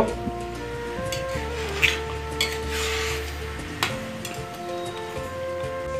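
A pot of payesh, a Bengali rice pudding of milk and rice, taken off a home kitchen stove: metallic clanks and scrapes of the pot over a steady tonal hum, with one sharp knock near the end.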